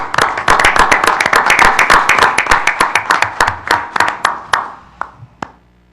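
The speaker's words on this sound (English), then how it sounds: "Deserves a round of applause." Applause and hand clapping from attendees at a township meeting, a dense burst of claps that thins out over about five seconds into a few final scattered claps.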